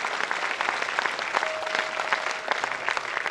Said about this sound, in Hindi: आप सबसे अनुरोध जोरदार तालियों से अनूप जी का स्वागत करें